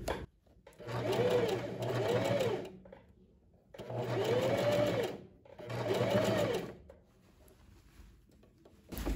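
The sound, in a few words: sewing machine stitching a puffed sleeve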